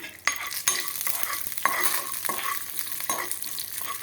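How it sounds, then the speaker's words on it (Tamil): Crackling sizzle of cashews frying in hot ghee for milk payasam, with a spoon stirring and scraping the pan in irregular clicks. "நெய் ஊற்றி முந்திரி பருப்பை வறுத்து அதில் போட்டுடலாம்"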